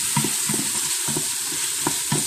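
Food browning in an Instant Pot for a low country boil, a steady close sizzle with occasional stirring scrapes and no talk.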